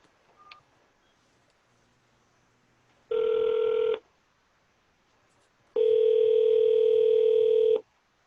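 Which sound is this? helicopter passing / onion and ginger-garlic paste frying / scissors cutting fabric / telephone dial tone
telephone dial tone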